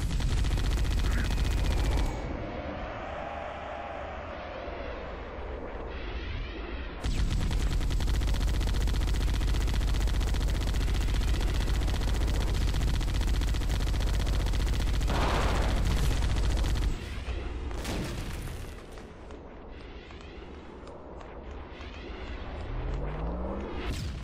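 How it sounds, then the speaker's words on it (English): Sustained heavy automatic fire from a Warthog's anti-aircraft gun aimed at Banshees in Halo: Combat Evolved, loud and close in long unbroken bursts with brief pauses, mixed with explosions and vehicle noise. "run back to your Warthog and use its anti-aircraft gun on the Banshees"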